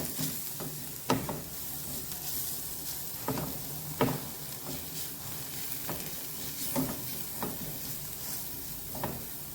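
Turmeric and spice powders being mixed in a hot pan, heard as a soft, steady sizzle punctuated by intermittent scraping and tapping stirs every second or two, close but fairly quiet, with no speech.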